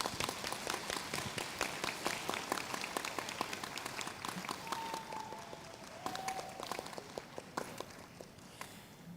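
A conference audience at a science event applauds, many scattered claps at moderate volume that continue steadily and begin to thin near the end.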